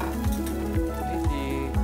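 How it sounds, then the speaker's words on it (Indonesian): Crushed garlic sizzling in hot oil as it fries until crispy in a Japanese restaurant kitchen, a steady close frying hiss with a few soft scraping stirs. "Goreng sampai garing."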